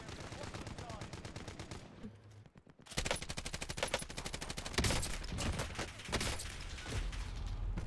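Rapid automatic gunfire in Call of Duty: Warzone, a gun with heavy kick firing in long dense bursts after a brief lull, with a voice talking underneath.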